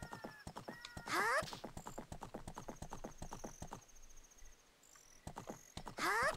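Rhythmic hoof clip-clop of a horse in Zelda Ocarina of Time, brisk and regular, with two loud whinnies at the start and end over a soft bed of chirping crickets and ambient game tones.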